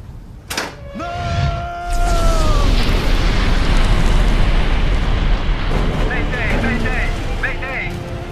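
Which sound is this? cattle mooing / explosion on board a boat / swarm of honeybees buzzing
explosion on board a boat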